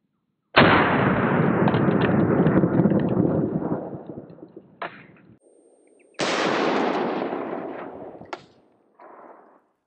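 Red Army standard 7.62x39 full metal jacket rounds fired from a 16-inch rifle at a lightweight Level IV armor plate: two loud sharp shots a few seconds apart, each with a ringing, decaying tail.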